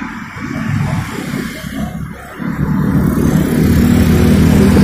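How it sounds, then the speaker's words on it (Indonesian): Private cars drive past on a street in a loud, continuous roadside wash, the broad engine and tyre rumble dipping briefly, then swelling and holding steady, with no talk. "ini kebanyakan mobil-mobil pribadi tuh"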